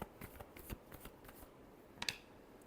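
Tarot cards shuffled by hand, soft quick riffling bursts repeated several times, close and quiet, ending with a sharper flick, no speech.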